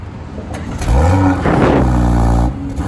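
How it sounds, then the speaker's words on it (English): A 2019 BMW X3 M40 with a sport exhaust fires up and settles into a loud, deep, steady roar close by, with no voices present. "Now I'm going to start the car up for you guys and give you a little sound of the exhaust."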